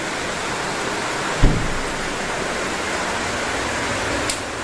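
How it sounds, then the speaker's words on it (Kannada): Heavy rain pours down in a dense, steady roar, with a dull thump near the start and no voices. "ಜೋರು ಮಳೆ"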